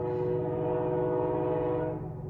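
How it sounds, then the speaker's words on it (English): A passing train sounds a long, loud, steady horn blast that holds for over two seconds before easing slightly at the end. "Okay, that's the train."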